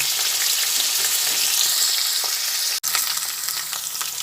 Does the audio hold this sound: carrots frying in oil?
yes